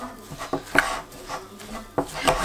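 Ingredients being mixed into dry granola mix: close, rhythmic rubbing and scraping strokes with a few sharper knocks against the bowl, heard alone.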